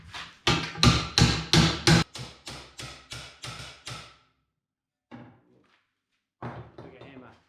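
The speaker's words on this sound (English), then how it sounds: "Bigger hammer." Heavy hammer blows strike a custom license plate bracket for a Chevy, about a dozen sharp metallic whacks in quick succession at close range, then a pause before a few lighter taps.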